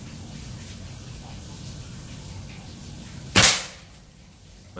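A single sharp shot from a Mouser Monel 4000 PSI air rifle cracks out after a few seconds of quiet outdoor ambience, its report fading quickly.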